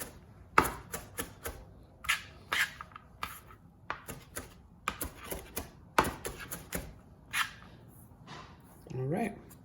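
A knife chops greens and tomatoes finely on a board in quick, uneven bursts of sharp taps. The sound is close and crisp, and a brief voice comes in near the end.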